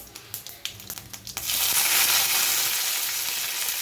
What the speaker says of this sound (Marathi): जिरं मोहरी अशी तळतळली तेलामध्ये त्याच्यानंतर कढीपत्ता टाकून घेऊया